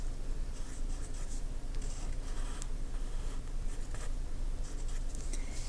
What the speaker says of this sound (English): I think I'm going to draw these ones right here.